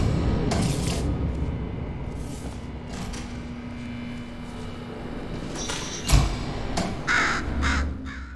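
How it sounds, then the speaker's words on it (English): A bird in the video game Portal Stories: Mel gives several harsh crow-like caws in scattered bursts, some loud and near, with a thud and rustling amid a steady low ambient hum. "Bird! Bird!"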